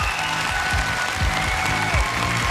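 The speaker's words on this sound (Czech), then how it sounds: "obrovská hlboká poklona a veľký potlesk pre všetkých súťažiacich" Audience at the Česko Slovensko má talent 2012 winner announcement applauds the contestants, a loud, dense wash of clapping that holds steady throughout, with music playing underneath.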